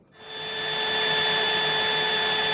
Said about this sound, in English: continuing to drill the holes in our trigger brackets